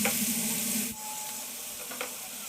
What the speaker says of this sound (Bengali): এবার থ্যাতো করে নেওয়া পেঁয়াজ রসুনটা তেলের মধ্যে একটু ভেজে নিব